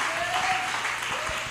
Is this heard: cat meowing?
no